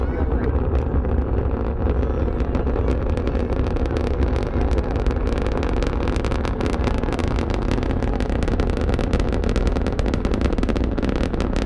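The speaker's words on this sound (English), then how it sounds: "We're about to see a shuttle launch." Space Shuttle Discovery lifting off on mission STS-131 after solid booster ignition, a loud, steady, broadband rumble and roar that holds without pause, with wind buffeting the microphone.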